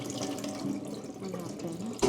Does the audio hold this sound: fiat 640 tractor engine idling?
no